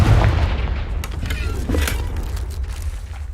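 A Confringo fire spell explodes in Hogwarts Legacy, a booming blast with rumbling low-end and crackling bursts that tail off over a few seconds.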